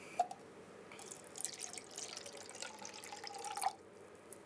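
Water being poured from a quarter cup into a fluffy slime mixture, a soft, quiet trickle and splash lasting a few seconds, with small drips at the start and end.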